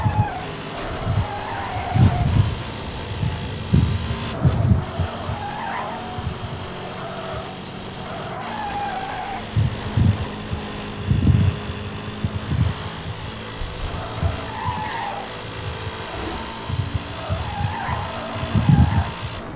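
Race car engines and skidding tyres from NFS Hot Pursuit Remastered, with repeated bursts of engine roar and squealing slides over a steady driving drone, fairly loud and continuous with no talk.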